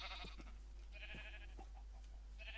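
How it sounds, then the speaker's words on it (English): Several short bleats from a sheep in the video game Minecraft, repeated in a loose rhythm over a steady low hum, fairly faint and without talk. "We've got one sheep around there"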